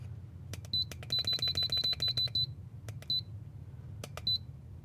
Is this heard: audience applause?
no